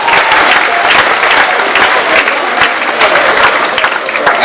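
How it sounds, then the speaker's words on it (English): Workshop participants at a jazz workshop clapping together, loud and close, a thick continuous round of applause that holds steady before easing slightly at the end. "give yourselves a round of applause"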